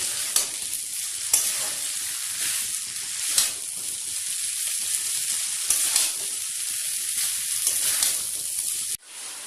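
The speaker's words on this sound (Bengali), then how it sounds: "ভালো করে এভাবে ঘেটে ঘেটে সসগুলোকে ভালো করে মিক্স করে ভেজে নিতে হবে" Sauces being stir-fried in a pan for egg chow mein, a steady bright sizzle with periodic scraping stirs of the spatula recurring every second or so, close and continuous, no talking.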